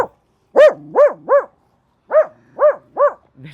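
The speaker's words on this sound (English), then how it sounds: "You hear this? You hear this dog?" A dog barks close by in two quick bursts of three loud, sharp, tonal barks each, separated by a short pause.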